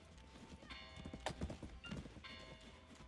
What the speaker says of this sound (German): Aber da, das ist doch ein Pferd.